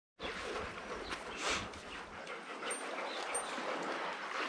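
Dogs climbing a white sand cliff by the beach on Conception Island, Bahamas, whimper and pant close by, with rough scuffling and breathy noise running throughout.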